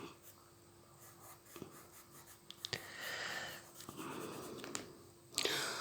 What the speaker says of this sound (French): le crayon, grâce au produit, la couleur se dépose sur la partie à colorier et glisse